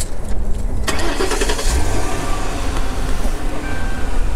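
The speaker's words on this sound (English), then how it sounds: "since the car has started" A 2008 Lincoln Town Car Signature L long-wheelbase engine cranks and catches, with a brief starter whir and then a loud, steady idle rumble close by.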